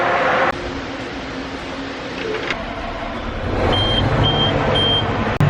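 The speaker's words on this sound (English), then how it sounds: "Everything's got a beep when you start it." Three short, high electronic warning beeps sound at even intervals over a steady engine rumble.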